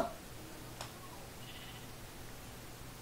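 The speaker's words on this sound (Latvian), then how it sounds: "Aita!" A sheep bleats once, briefly and fairly faintly, in the Minecraft video game, standing alone over a low, quiet game background.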